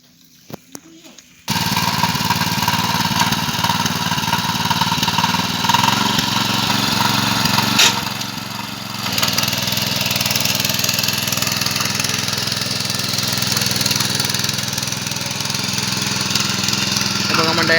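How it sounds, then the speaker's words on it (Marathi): A power tiller's engine starts up and runs loudly nearby in a rice field, a steady rattling drone with a brief dip midway. "ट्रॅक्टर आमच्याकडे ट्रॅक्टर बोलतात आणि त्याचं खरं नाव पॉवर टेलर आहे"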